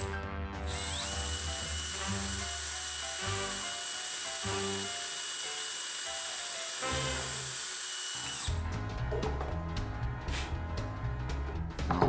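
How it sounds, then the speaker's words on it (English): Power drill boring through wood with a 1/8 inch bit, a steady loud whine running close and continuous, with short pauses and shifts in pitch as the bit bites and breaks through. "I'm going to do that with a 1/8 inch bit on those 8 spots"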